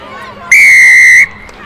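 A referee's whistle shrills once in a sustained blast for a penalty during an England versus Wales under-20 women's rugby match, standing out loudly over faint crowd noise.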